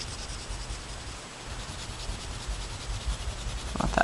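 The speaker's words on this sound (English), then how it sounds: "you just scribble however much you want the background" Soft, continuous scratchy rubbing of a pencil scribbling across paper, close and quiet, with slightly rougher strokes toward the end.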